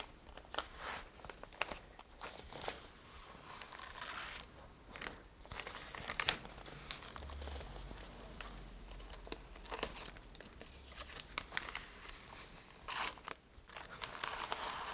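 Airbrush masking stencil being peeled off a freshly painted bubble or circle, a run of close crinkling, tearing and crunching rustles of lifting film, steady with brief sharper crackles and no talking.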